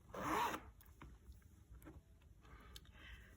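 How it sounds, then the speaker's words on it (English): A short, close zipper pull rasps open on the zippered pocket of a stationery cover, one quick stroke followed by faint handling rustles. "a zippered pocket that you can kind of access"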